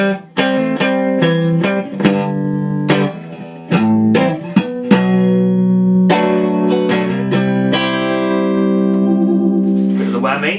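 A 1967 Teisco Jag Shape electric guitar, notes and chords drenched in reverb, played close and fairly loud, with ringing sustained tones and short pauses between phrases.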